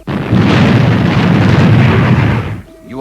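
Spacecraft retro rockets firing in a roaring burst, a loud dense rush lasting about two and a half seconds before cutting off, followed by a brief voice.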